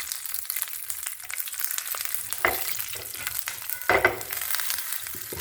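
Roasted gram sizzles and crackles as it fries and browns in a pan, with stirring scrapes and a couple of louder stirs breaking through the steady frying.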